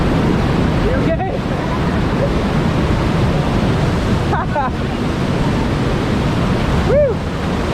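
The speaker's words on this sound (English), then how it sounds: "if you make it up here, it's a cool little waterfall" A river waterfall rushes with loud, constant broadband water noise and some wind buffeting, and brief voices break through now and then.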